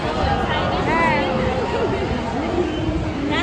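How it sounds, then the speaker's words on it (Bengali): Dense crowd hubbub at Howrah railway station, with overlapping chatter and voices echoing in a large, busy space, a constant murmur of many people close by. "আমি হাওড়া স্টেশন চলে এসেছি, আর আমার সব বন্ধুরাও চলে এসছে।"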